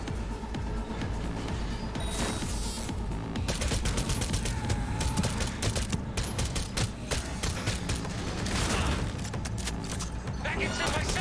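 Rapid bursts of gunfire from Cyberpunk 2077 combat with a hard-kicking gun, dense overlapping volleys and booms filling the whole stretch, loud and continuous with game voices talking over the shooting.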